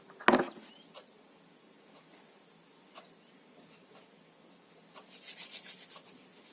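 Nivea Soft cream is rubbed onto dry facial skin, giving faint, close, scratchy rubbing strokes with a sharp brush at the start, sparse soft scrapes, and a rhythmic burst of rubbing toward the end.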